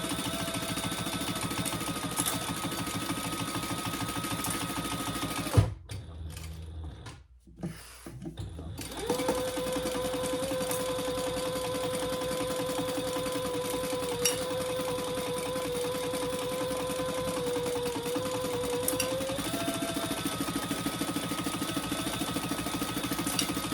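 A sewing machine stitches a crossbody bag, a steady close mechanical whir with a brief pause midway for adjustment before the motor resumes running evenly.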